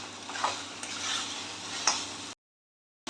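Chicken keema stirs and fries in a pan, a soft continuous sizzle broken by a few scraping stirs, then cutting off abruptly to silence.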